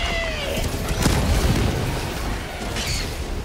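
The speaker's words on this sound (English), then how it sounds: "Throwing grenade." A grenade blast in the video game Helldivers 2, a loud deep boom with a rumbling tail and crackling debris, close and filling the short moment.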